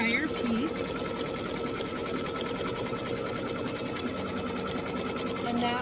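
A sewing machine making the last stitch around a heart-shaped quilt block, running in a fast continuous rattling whir, with a person talking over it.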